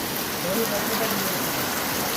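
Steady first rain of the season falls in Mumbai, an even, dense hiss of drops hitting surfaces close by, continuous and fairly loud throughout with no clear talk.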